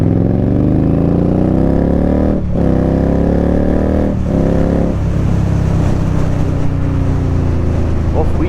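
An Indian Scout Bobber motorcycle pulls away, its engine loud and close as it revs and climbs through gears, with the pitch rising, dropping at shifts and settling into a steady drone.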